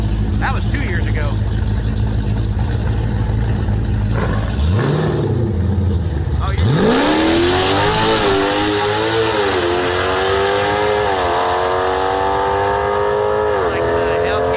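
Drag race cars, including a Dodge Hellcat, launching hard at a test-and-tune bracket race, with a deep rumble building into a loud rising engine roar that keeps climbing through the run, while a commentator talks over it.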